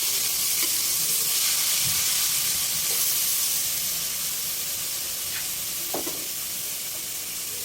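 Diced tomatoes and onions sizzle and hiss steadily in a hot pan for a Filipino squid sauté, with occasional soft stirring clicks, close and continuous without talk.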